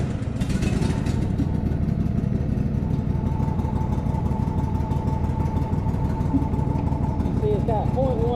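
Small engine on a new Cub Cadet XT2 SLX50 riding mower turns over and settles into a steady, loud running drone that fills the whole stretch, with no pauses.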